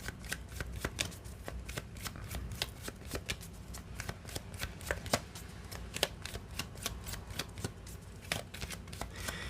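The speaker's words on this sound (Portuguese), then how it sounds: "Então, vamos abrir agora o baralho cigano." A Cigano (Gypsy) tarot card deck being shuffled at close range, a rapid run of crisp card flicks and riffles that carries on steadily with no speech.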